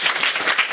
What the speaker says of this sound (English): Wow, a round of applause